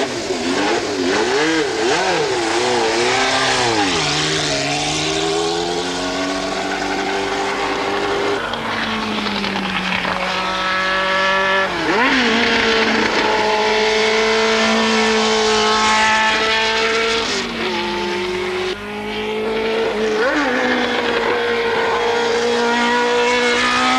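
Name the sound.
Tyrrell 008 four-wheel F1 race car driving through a corner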